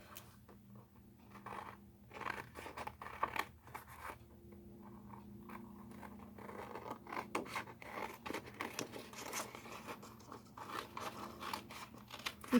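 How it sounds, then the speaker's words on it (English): Paper being cut with handheld snips, a run of soft, crisp snipping and rasping close by, steady through the whole stretch with small uneven bursts and no talking. "take your snips and just cut it off"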